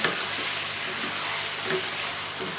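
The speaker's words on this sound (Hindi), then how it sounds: "अब हम इसको तकरीबन 2 मिनट भूनेंगे।" Steady hissing sizzle of chicken with ginger-garlic paste frying in a karahi, with a few soft stirring scrapes, continuous and close.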